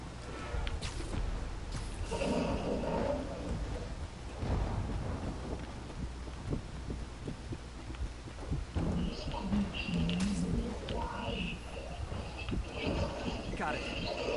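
Low rumbling thunder rolls through a lightning storm in a Spider-Man video game, steady and heavy with rain-like noise, under a voice talking.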